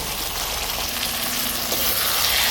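Taro stolons sizzle loudly in a pan of hot oil as spices are added, a dense, close frying crackle with occasional stirring scrapes and no talking.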